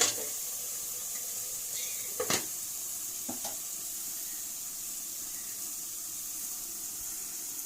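Egg curry simmers in a pan with a soft, continuous bubbling hiss up close, broken by a couple of brief clinks near the start.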